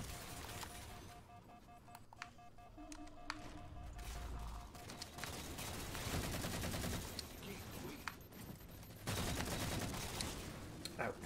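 Gunfire in the Halo video game, bursts of rapid automatic shots and sharp impacts at close range, rising into a dense sustained barrage toward the end amid game effects.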